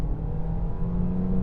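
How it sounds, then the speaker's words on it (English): A 2023 Kia Niro SX Hybrid accelerating at full throttle in sport mode, a steady, close engine drone and whir heard from inside the cabin, with no talking. "I have transmission in drive, I have the drive mode set to sport, and we're just going to mosh the throttle."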